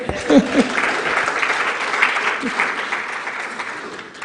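Ongoing applause from a conference hall audience at an internet governance forum, steady and moderately loud, gradually tapering, with brief voices heard near the start.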